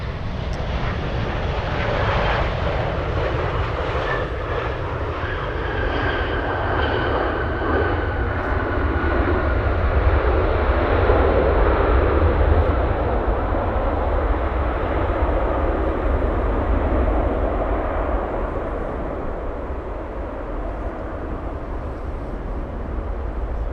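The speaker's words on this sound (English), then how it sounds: "We have several Hercules out there. Definitely hearing a prop out there." Hercules propeller aircraft engines droning steadily in the distance at Anchorage airport, a continuous broad rumble with a faint tonal hum that swells slightly in the middle and holds throughout, no voices.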